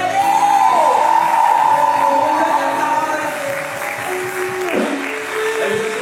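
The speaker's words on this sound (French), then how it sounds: "Continuez d'acclamer pour eux." Congregation at a church worship service applauding and cheering steadily, a dense wash of clapping with whoops and shouts, loud and sustained throughout.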